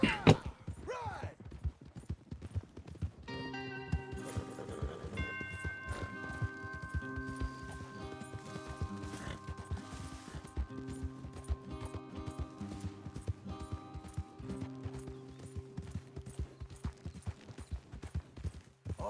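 Horses clip-clopping at a steady gallop in the video game Red Dead Redemption 2, hoofbeats continuous and moderately close, with sustained musical tones layered over them.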